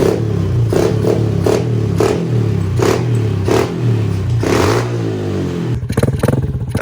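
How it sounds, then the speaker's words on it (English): An ATC70 three-wheeler fitted with a CRF110 engine idles loudly and close, with repeated short throttle blips giving a pulsing rev pattern, then rough clattering firing near the end. "Would you want me to crack the throttle?"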